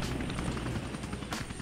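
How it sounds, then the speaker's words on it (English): Helicopter in the skateboarding video game Tony Hawk's Underground, a steady whirring rotor drone with a dense low rumble that holds loud and close throughout, with a brief swell near the end. "He's like, oh, a helicopter?"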